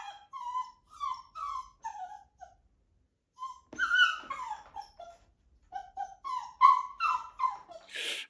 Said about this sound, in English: No one likes the sound of a scared, crying puppy.